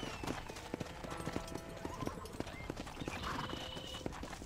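Horse hooves clip-clop on the ground in the Red Dead Redemption video game, a brisk uneven run of hoofbeats with a short whinny partway through, heard close and joined by faint in-game voices.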